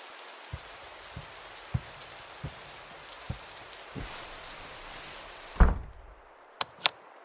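Steady rain falls outside, a soft constant hiss with occasional drip knocks, until a door thuds shut and cuts it off, followed by two sharp knocks in the quiet.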